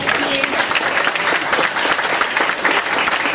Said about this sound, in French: Vous devez vous applaudir.